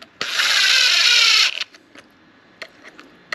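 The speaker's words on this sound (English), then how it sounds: "I'm doing this with an impact" An impact driver snugs screws on a Dewalt 20V cordless orbital sander during a belt repair, giving one loud sustained whirring burst of just over a second followed by faint clicks and taps.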